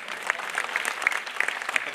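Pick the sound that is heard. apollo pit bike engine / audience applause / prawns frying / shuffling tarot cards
audience applause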